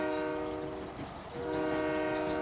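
A cartoon circus train arriving, its horn blowing in a loud, sustained harmonic blast that dips briefly midway and swells again, with no voices.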